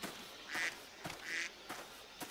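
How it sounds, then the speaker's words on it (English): Two loud, nasal duck quacks ring out close by in the hunting video game Cabela's Big Game Hunter Pro Hunts, spaced about a second apart over a soft outdoor background. "Jeez, these stupid ducks, why are they so loud?"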